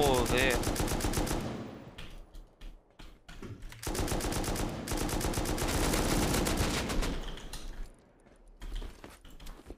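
Dense automatic gunfire from many players shooting at once in a base raid in a video game, loud rapid bursts overlapping almost continuously with brief lulls, a voice talking underneath.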